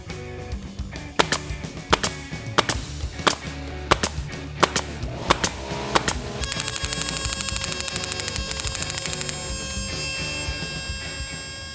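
Nail gun powered by a Lincoln L6V 6-litre air compressor fires a rail of nails nonstop: sharp, loud, evenly spaced cracks, then a fast steady burst of shots over the compressor's continuous hum as it repressurizes.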